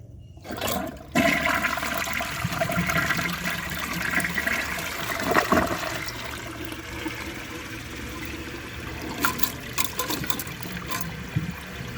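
A 2007 Corona Aquajet toilet flushes with a loud rushing surge, then settles into the steady hiss and trickle of the tank refilling, heard close up with no talking.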